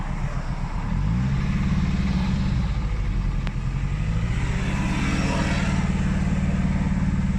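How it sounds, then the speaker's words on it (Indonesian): A motorcycle engine, its exhaust dosed with A72 King catalytic system cleaner, rumbles at idle and then is throttled up into a sustained, rough, throbbing rev that stays loud and close throughout. "Coba silakan digas."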